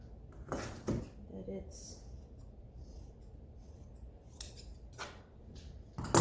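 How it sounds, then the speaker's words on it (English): Scissors snip through face mask filter fabric in a few short, crisp cuts clustered early on, then a quieter stretch with faint handling noises and a final louder rustle. "So I'm gonna first cut it off and then shape it to the size that I want it to be."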